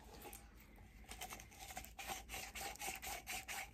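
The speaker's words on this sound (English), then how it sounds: "Let's see how the grinder does." Faint, close scratchy grinding of an herb grinder being twisted, a rough rasping texture in uneven repeated turns.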